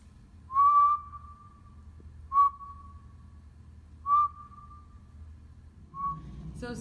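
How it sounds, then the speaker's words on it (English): A person whistles four separate clear notes, each a short steady tone with a slight rise at the start, evenly spaced in a quiet room, the first held longest. "So we're going to do a whistle."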